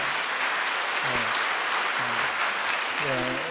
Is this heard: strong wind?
no